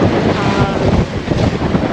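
A sailboat under sail in big waves and strong wind, borderline overpowered, with a loud, steady roar of wind and rushing water sloshing against the hull throughout.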